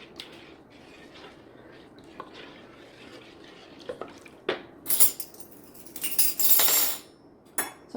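Salt being stirred into a sourdough einkorn starter mixture in a bowl, soft scraping and utensil clinks building to a few louder bright rattles near the end, close by with no talking.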